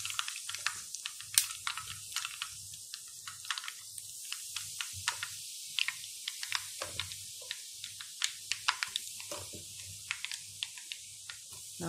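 Spices and chilli powder crackle and sizzle in hot oil for citron pickle, with scattered sharp pops and spits over a quiet hiss.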